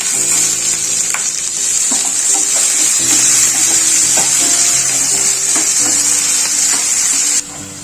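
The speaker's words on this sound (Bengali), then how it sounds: "আদা রসুন এবং টমেটোটা 2 মিনিট মতো কষিয়ে নিয়েছি" Ginger garlic paste and chopped tomato sauté in a pan of fried onions, giving a loud, steady sizzle close by with occasional clinks and scrapes of a spoon stirring, which cut off abruptly at the end.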